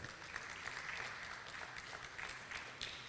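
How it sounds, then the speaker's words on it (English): An audience at an Edo conference gives a steady, soft wash of applause heard from a distance, continuous and even throughout with no voices on top. "Please give yourselves a warm round of applause."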